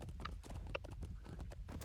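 Horse hooves clip-clopping in the medieval combat video game Chivalry 2, a rapid irregular clatter of hoofbeats over busy battle noise, with faint voices underneath.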